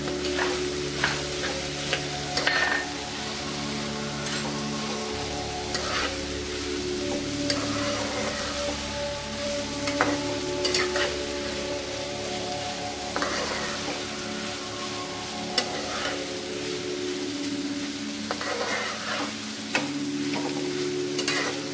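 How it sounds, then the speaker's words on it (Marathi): Two seeded, chopped tomatoes sauté in a pan, a steady, close sizzle and frying hiss running throughout with scraping stirs of a spoon, while a faint tonal hum sits underneath. "टोमॅटो घातल्यानंतर सुद्धा आपण 1-2 मिनिटं पुन्हा परतून घ्यायचे।"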